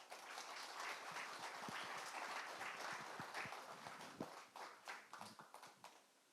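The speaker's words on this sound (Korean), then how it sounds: "힘차고 뜨거운 박수로 맞이해 주시면 감사하겠습니다." Audience applause greeting an honorary adviser at the launch ceremony of a memorial society for an anti-Japanese independence activist and labor organizer, dense and steady clapping that thins into scattered claps toward the end.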